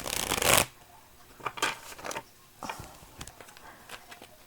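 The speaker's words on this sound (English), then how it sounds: "I'm going to give this another shuffle" Tarot cards shuffled by hand: a loud riffling burst at the start, then several shorter soft card flutters and taps, close and alone with no talking.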